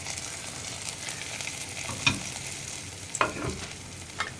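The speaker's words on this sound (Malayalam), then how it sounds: "അപ്പോൾ നമ്മൾ റെഡിയാക്കിയ വറവ് ഇതിലേക്ക് ചേർക്കുക." A hot tempering hits a cucumber yogurt curry with a soft, steady sizzle, punctuated by a couple of sharp metallic clinks and stirring scrapes close by.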